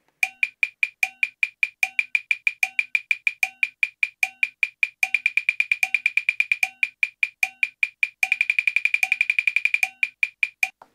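A programmed drum practice sequence of quintuplets is played through Polynom. Crisp, evenly spaced electronic clicks with a pitched beep repeat steadily, then speed up into denser groupings, alone with no talk.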